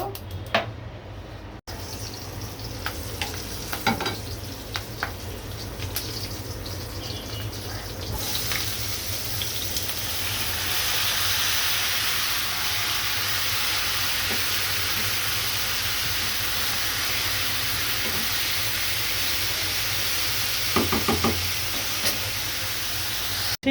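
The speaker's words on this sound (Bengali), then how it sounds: "এখন হচ্ছে এই চুলায় আমি ভাজিটা বসিয়ে দিব। প্রথমে আমি চিচিঙ্গা ভাজিটা করে নিব।" Snake gourd bhaji frying in a pan on a stove, a steady hissing sizzle that starts soft and swells after a few seconds into a loud, continuous broadband fry, close by with no talking.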